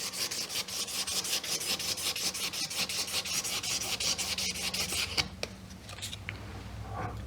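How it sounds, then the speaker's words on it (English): Rapid, steady back-and-forth rasping of 600 grit sandpaper buffing the scored handle of a Dillon Square Deal B reloading press, close and continuous, stopping near the end with a few faint knocks. "just using the sandpaper to smooth things over"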